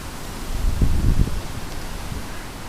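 Hurricane wind gusts roar and rustle through trees, swelling into a stronger burst with low rumbling buffets against the microphone before easing to a steady rush.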